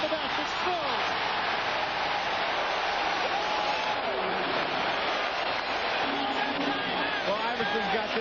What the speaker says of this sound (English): Iverson's got this crowd going right now.